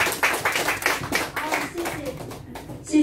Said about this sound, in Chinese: 我们呢，用最热情的掌声来欢迎我们的吴老师